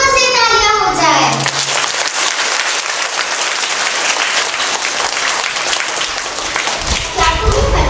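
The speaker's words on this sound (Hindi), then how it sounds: "इतना सुंदर सुरीला गीत सुनने के बाद जोरों से तालियां हो जाए" An audience of schoolchildren applauds loudly after a song at a Hindi Day school event, sustained dense clapping for about six seconds, with a voice speaking just before and after.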